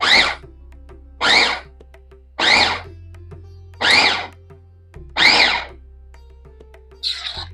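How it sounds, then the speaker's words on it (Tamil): Electric kitchen chopper grinding gooseberry (amla) chutney in short pulses, about six sharp whirring bursts of roughly half a second each, separated by brief pauses over a low steady hum. "இப்போ இதை சாப்பரில் போட்டிருக்கேன். நரன்னு அரைச்சிட்டு உங்களுக்கு நான் காட்டுறேன். இந்த மாதிரி விட்டு விட்டு அடிங்க."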